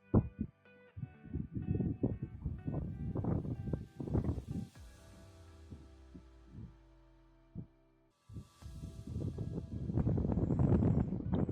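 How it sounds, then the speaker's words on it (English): Gusty wind buffets the microphone in deep rumbling bursts by the cliffs of Red Rock Canyon, dropping to a quieter lull midway before picking up strongly again. "It is getting a little bit windy."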